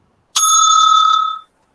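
A timekeeper's bell at a school debate rings once, loud and close, a single bright metallic ding that sustains for about a second and fades in a quiet room.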